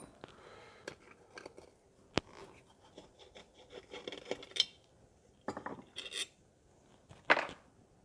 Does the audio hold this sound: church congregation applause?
no